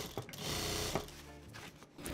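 A sewing machine stitches denim for a handbag in a steady mechanical whir, stopping briefly near the end of a seam before a short restart, close and alone.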